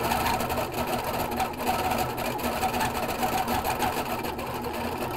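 An HQ Capri sewing machine with stitch regulation stitches fabric, giving a steady, continuous mechanical whir with a fast, even rhythm, close and fairly loud throughout, with no talking.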